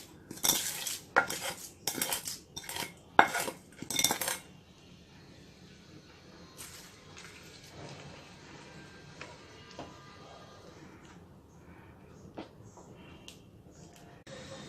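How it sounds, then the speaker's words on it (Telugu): A metal spoon scrapes and clanks rhythmically against a pot several times, then the clatter stops, leaving a quiet, faint background. "ఈ తాలింపును ఉడికించుకున్నటువంటి సాంబార్లో వేసుకొని కలుపుకుందాం."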